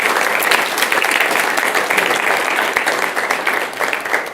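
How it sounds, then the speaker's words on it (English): An audience at a school governing board meeting claps steadily, a dense, loud wash of applause from many hands lasting about four seconds without a break. "So if we can give her one more big round of applause."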